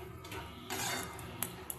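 Cooked banana flower curry (mocha ghonto) scraped from the pan into a serving dish, a brief rush of scraping and clattering spoon against metal, with a couple of light clinks, close by.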